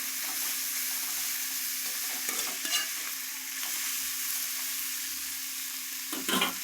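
Vegetables for veg rice with capsicum and chilli stir-fried in a pan, a steady loud sizzle with scraping stirs and a few louder clatters near the end, no talking.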